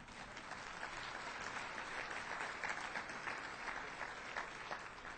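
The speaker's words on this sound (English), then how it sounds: "this also does deserve another round of applause" Steady applause from a conference audience, a dense wash of clapping that holds evenly throughout at moderate distance with no voices over it.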